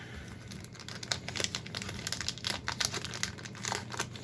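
Close, crackly crinkling and tearing of taped plastic packaging around a Rubik's Speed cube, with irregular bursts of rustling that run continuously at moderate loudness, without talk.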